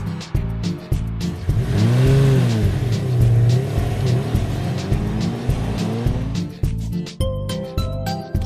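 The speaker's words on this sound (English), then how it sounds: "Car," Toy car driving with a car-engine-like whine that rises and falls in pitch, sweeping up and down over a steady rhythmic pulsing background, loud and close with no talk.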